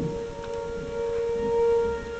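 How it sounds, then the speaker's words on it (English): Civil defense tornado sirens in Tulsa, Oklahoma wail steadily from a distance, their rotating horns making the sustained tone swell and fade. "You can hear the sirens. They spin around so they get louder and softer."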